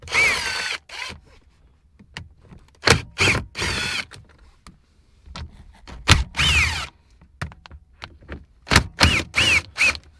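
A cordless impact gun with a 10 mm socket whirs in short, sharp bursts, with pauses between them, as it backs out the screws holding a car radio, close up and loud.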